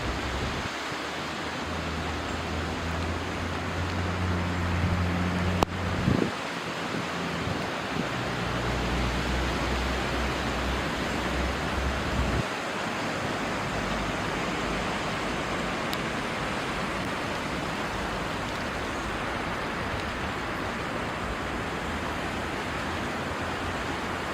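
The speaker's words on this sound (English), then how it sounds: "The wind is definitely picking up." Strong wind blows steadily outdoors, a broad roaring rush buffeting the microphone with low rumbling gusts, no voices heard.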